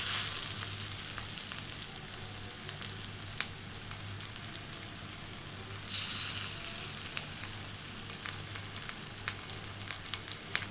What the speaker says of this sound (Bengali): তো এখানে আমি সরিষার তেল অল্প করে নিয়েছি। এরপরে আমি ডালগুলো দিয়ে দিব এক এক করে।